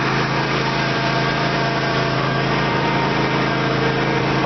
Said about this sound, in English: We've been hauling stuff back and forth all day with a lawnmower.